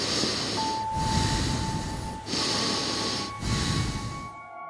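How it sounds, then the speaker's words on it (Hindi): Loud, heavy breathing in three long ragged cycles, each breath a broad rushing hiss with brief pauses between, close to the ear, over a faint steady hum. "मेरी जोर जोर से चल रही सांसों की आवाज शांत कमरे में गूंज रही थी।"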